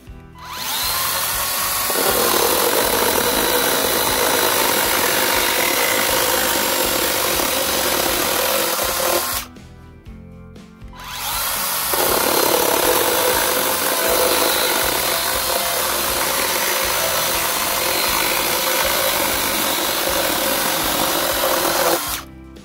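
A Makita cordless chainsaw runs loud and steady, its bar tip biting through a wooden board for about nine seconds, stops briefly, then cuts again at full strength until the end.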